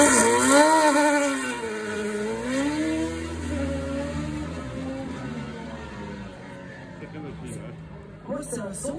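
BMW 2-litre engine in a Martini MT80 hill climb race car, a rebuilt engine, revving and changing pitch as it climbs and falls through the gears, loud and near at first then easing back, with someone talking over it.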